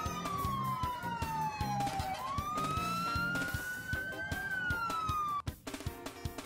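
An emergency siren wails with a long rising and falling tone over a steady rhythmic pulse, fairly loud and continuous, from a fire engine.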